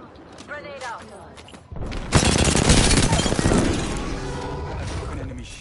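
Apex Legends gunfire, with a dense loud burst of shots and explosive crackle starting about two seconds in and sustained to the end, preceded by quieter game sounds and a voice.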